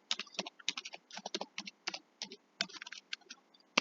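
Rapid clicking keystrokes on a computer keyboard while typing text into Canva, in quick irregular bursts with brief pauses, close and fairly quiet.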